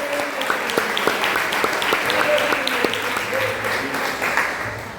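A church congregation claps loudly and continuously to welcome the pastor, a dense wash of applause with some voices and cheers mixed in throughout.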